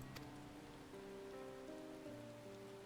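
Rain in the video game Final Fantasy XIV: a steady, soft hiss of rainfall running through the whole moment beneath sustained musical tones, with no voices.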